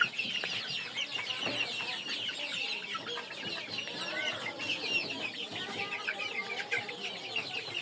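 Chickens kept in an enclosed village coop in cold winter weather cluck and chatter continuously nearby, with overlapping calls and a few sharper squawks.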